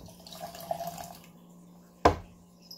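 Hot ripe pu-erh tea from Yunnan Sourcing's 2011 Man Tang Hong Te Ji is poured out in a soft, trickling stream that fades, followed by a single sharp splash or clink close by.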